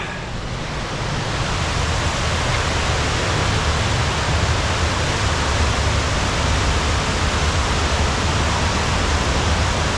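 Constant heavy roar of water pouring down the bellmouth plughole overflow at Ladybower Reservoir in the Derwent Valley, Peak District, a loud, steady rushing wash with no breaks and no speech.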